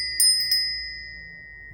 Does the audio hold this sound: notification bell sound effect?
yes